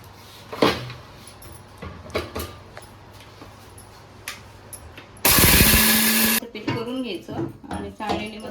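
Roasted sago ground fine in an electric grinder, a loud dense whirring burst lasting about a second near the end, set between stretches of close talking and clattering handling noises.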